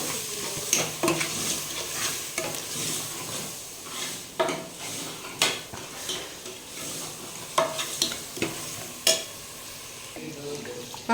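Spices and masala, coriander powder and chilli, sizzle in a pan for mutton kuzhambu while a spoon stirs and scrapes against the metal in uneven close strokes.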